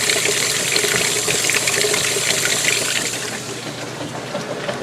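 A washing machine filling with water while running a warm rinse, a steady loud rushing gush of water pouring in close by, easing slightly near the end.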